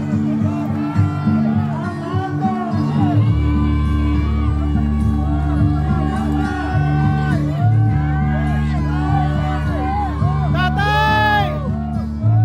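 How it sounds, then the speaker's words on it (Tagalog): Crowd shouting and cheering at a Duterte rally in Cebu, a loud continuous roar of many voices with whoops and yells, layered over a sustained low hum of music or sound system. "Pakinggan nyo ang mga sigaw ng tao ha."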